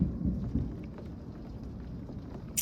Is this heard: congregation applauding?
no